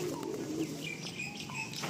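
Madrasi or Andhra breed pigeons softly cooing and chirping in a loft, with faint wing flutters and scattered short calls over a steady ambient hiss.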